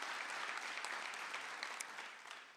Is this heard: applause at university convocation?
yes